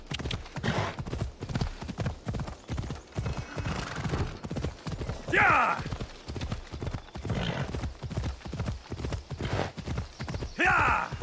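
Steady, rhythmic clip-clop of horse hooves trotting in the video game Assassin's Creed Odyssey throughout, with a horse whinnying a few times and faint talk underneath.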